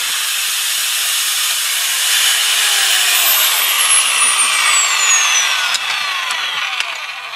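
Kress angle grinder running after repair and maintenance, a loud continuous close hissing whine with a faint pitch sweep as the disc spins up, alone without talk.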